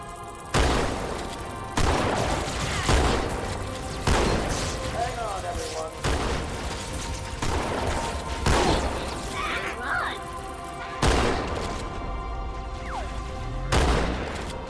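Dual-wielded shotguns blasting in Halo 2, heavy booming shots landing every second or two in a steady rhythm, loud and close, with a voice speaking between blasts.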